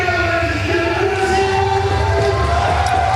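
A crowd roars at the 2021 Shaw Classic strongman Hummer tire deadlift event at the Estes Park Events Center, a loud, steady wall of cheering with sustained horn-like tones running through it.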